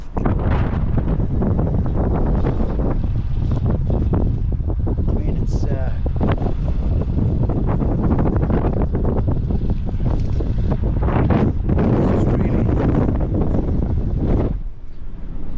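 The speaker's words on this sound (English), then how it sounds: "The weather's turning nasty again. The wind's now picked up." Strong storm wind buffeting outdoors on a bleak coastal stretch of the NC 500 route during Storm Gerrit, a loud continuous roaring rumble with heavy gusting microphone noise throughout, easing briefly near the end, with someone talking under it.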